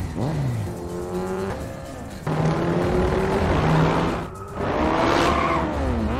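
A loud motor engine revs and whines as it speeds off, its pitch rising and shifting through the gears, close and continuous.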